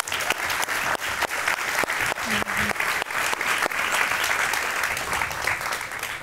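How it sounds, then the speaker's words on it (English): Lively audience applause at a fintech demo day spotlighting women leaders. It is loud and sustained, with individual sharp claps standing out from the steady wash of clapping. "we should start with a round of applause."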